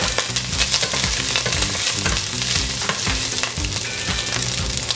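Garlic and white onion sizzle and fry steadily in olive oil in a pan, a continuous close crackle with occasional stirring clatter and no voices.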